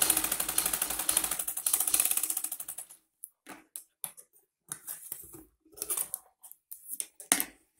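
A sewing machine stitches seams on a chanderi salwar, running in a rapid, regular mechanical rattle for about three seconds, followed by short, stop-start bursts of stitching with pauses between.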